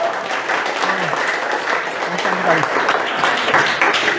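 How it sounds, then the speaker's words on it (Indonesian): Classroom of students applauding, a continuous patter of clapping at close to moderate range, with a few voices talking and exclaiming over it. "Belum dikasih tepuk tangan ini tadi."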